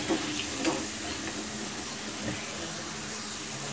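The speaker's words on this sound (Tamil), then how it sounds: "நல்லா பொரிஞ்சு வந்துருச்சு." Ivy gourd (kovakkai) chilli pieces fry in hot oil. A steady, close, broadband sizzle runs evenly throughout with no pauses.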